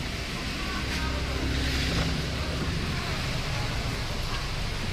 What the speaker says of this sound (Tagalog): ito si Toyota RAV4, no. Ito na siya, umandar na.